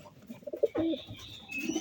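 A pigeon gives a short, close, soft coo in a quiet loft, with a brief throaty warble rising and falling.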